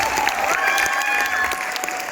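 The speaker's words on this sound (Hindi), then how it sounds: "अहमद फराज साहब की टीम के लिए आपके तालियां।" An audience in a Lahore hall applauds a team at a Bait Bazi poetry competition, dense continuous clapping from a large crowd, loud and close, with a voice faintly underneath.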